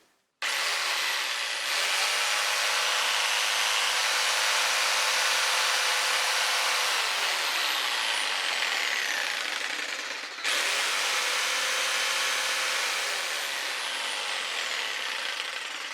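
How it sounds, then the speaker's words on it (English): A jigsaw cuts wood boards with its blade guided along a side fence jig. It gives a loud, continuous buzzing rasp in two long passes with a short break between them, and no one talks. "now I can cut in the middle of strips and boards of wood"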